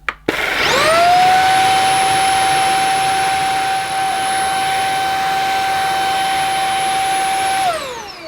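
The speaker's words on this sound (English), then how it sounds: "So hopefully this should work when I turn the cleaner on." A Beldray Roller cordless vacuum cleaner clicks on and spins up to a loud, steady high-pitched whine with an even motor hum, holds for several seconds, then winds down at the end.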